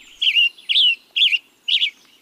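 Tanager song of four repeated slurred, whistled phrases, each under half a second and evenly spaced with short pauses, clear and fairly close with no voices or other sounds around them.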